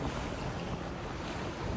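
A jet ski crosses rough Adriatic sea, a constant loud rush of wind buffeting the microphone mixed with churning water and waves.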